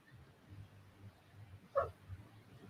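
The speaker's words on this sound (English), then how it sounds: "I think he's barking at the door" Dog barking at a door indoors, heard as a single short bark, faint and somewhat distant over a low room hum.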